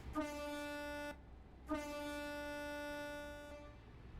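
A Scania S540 truck horn sounds in Euro Truck Simulator 2, two sustained harmonic blasts, the first about a second long and the second held for nearly two seconds, loud and alone.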